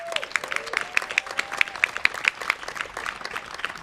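Audience applause at a Latino Heritage Month illumination event, a moderate wash of clapping with a few sharper claps standing out, steady across the clip and fairly distant, with a faint tone running under it early on.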